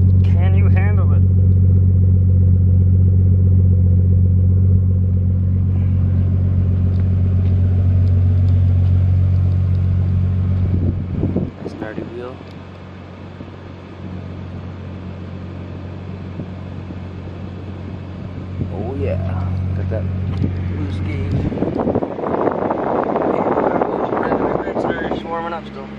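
A Toyota Supra Mk3 with its 7MGTE engine idles with a deep low rumble, then revs and settles, with some air and mechanical noise rising near the end, loud and close.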